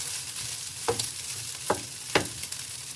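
Garlic fried rice seasoned with a little salt sizzles steadily in a pan, broken by three sharp scrapes of a spatula stirring it, close and fairly quiet.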